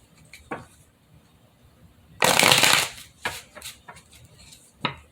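Tarot cards shuffled by hand: a few quick isolated card flicks, then one dense riffle lasting under a second, followed by scattered taps and slides of the deck, close and crisp.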